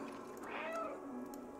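A cat meows in the Stray video game, one drawn-out, slightly rising mew lasting about a second, heard close and clear over a soft steady background.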